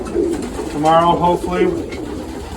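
Racing pigeons in a loft give soft, rolling coos in the middle of the stretch, a few bubbling phrases close by, while someone talks over and around them.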